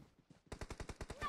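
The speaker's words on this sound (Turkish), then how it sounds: "Biri başka bir yerden vuruyor ama." Rapid automatic gunfire from the PUBG Mobile game, about eight evenly spaced loud shots in quick succession after a few fainter distant pops, with no talking.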